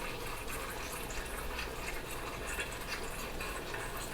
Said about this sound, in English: I want to take a little of this garlic liquid and just pour it on top of it